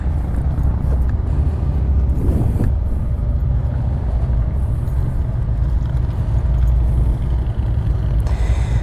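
Motorcycles at the Sturgis rally rumbling past during a ride near Mount Rushmore on a rented Harley-Davidson Low Rider, a loud steady engine and road roar with passing traffic throughout.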